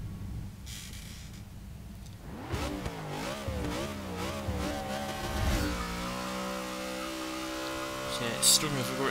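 A 1966 Ford Country Squire with a standard gearbox and long gear ratios revs hard in a racing game, its engine note climbing and sliding through shifting pitch sweeps, then holding a steady high drone, loud and continuous.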